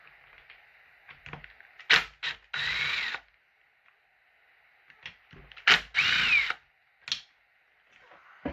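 An impact wrench on a nut during the teardown of a McCulloch Model 77 chainsaw, with sharp, loud rattling bursts in two clusters and quiet gaps between them.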